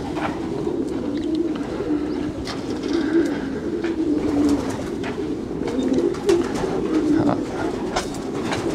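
Many breeding pigeons coo at a Belgian pigeon centre, a steady chorus of soft overlapping low coos close by, mixed with faint fluttering and clicks throughout.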